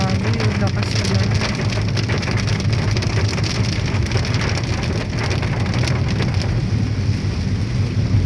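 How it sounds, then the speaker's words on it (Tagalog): Heavy rain pounds steadily on a car while driving home on a rainy Tuesday, a dense, loud, continuous roar with no break across the whole stretch. "Grabe, yung lakas ulan."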